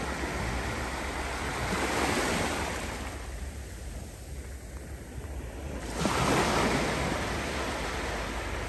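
Sea waves at the beach of El Campello, a broad steady wash of surf that swells, eases off for a few seconds, then surges back loud and close, with some wind on the microphone.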